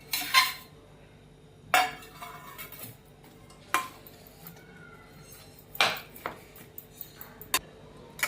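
Jaggery being stirred into grated raw mango in a metal pot, giving a few sharp scraping clinks of a spoon against the vessel at irregular intervals, separated by quiet gaps, close by.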